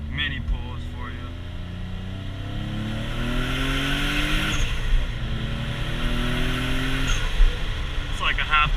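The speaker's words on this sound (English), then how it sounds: "here's a little second gear mini pulls for you." A Nissan 350Z's engine pulls in second gear at about half throttle on a main road, a rising drone that climbs in pitch through two upshift-like steps, heard from inside the car with a voice talking over it.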